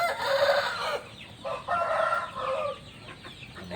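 A rooster crows close by, a drawn-out call broken into a few bursts, with no one speaking.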